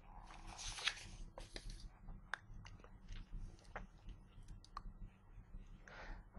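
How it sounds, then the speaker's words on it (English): Computer keyboard typing in a quiet room, a sparse series of light, irregular key clicks with a few louder taps, faint and close. "Here I am typing my name."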